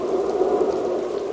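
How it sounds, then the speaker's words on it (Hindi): Heavy rain pours steadily in a cartoon forest on a cold winter day, a dense continuous hiss with no breaks, loud and close throughout. "पर अब हम कहाँ जाएंगे इतनी तेज बारिश में"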